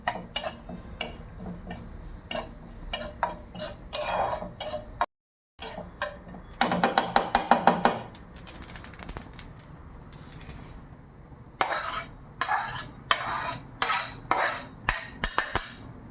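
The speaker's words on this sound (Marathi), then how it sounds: "आता जे आहे आपण चिया सीड्स टाकलेले आहे ते पण भाजून घ्यायचे." Chia seeds being dry-roasted in a pan for dried-fruit laddoos, with scattered ticking and clinking of a spoon against the pan, irregular scraping bursts and a brief silent gap, close and moderately loud with no talk.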